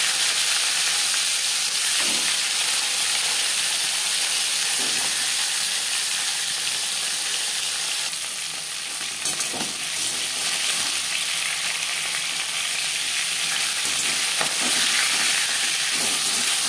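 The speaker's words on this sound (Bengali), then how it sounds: "4 চামচ রিফাইন্ড অয়েল গরম করে নিয়েছি। এবার দিয়ে দেব মাছের মাথা।" A katla fish head fries in four spoons of hot refined oil, a continuous loud sizzling hiss with occasional crackling spits and brief stirring touches, sustained throughout without speech.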